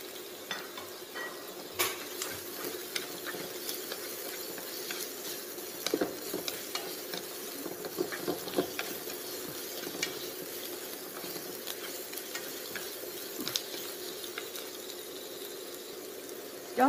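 Pineapple pieces are stir-fried in a pan for a simple vegetarian dish: a steady, soft sizzle runs throughout, broken by frequent scraping and clinking stirs of the utensil against the pan, close and without any talk.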